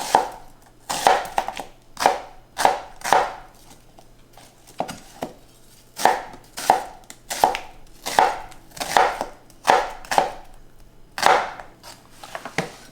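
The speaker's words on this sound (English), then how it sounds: "we're now going to chop up 1 onion into strips, about yay thick" An onion sliced into thick strips with a knife on a cutting board: crisp, close chops in quick rhythmic bursts separated by short pauses, no talking.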